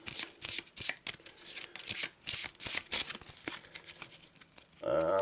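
Arkham Horror cards from the purple Rivertown deck are shuffled by hand in a run of quick, crisp riffling bursts, close and fairly quiet, ending with a brief tonal sound.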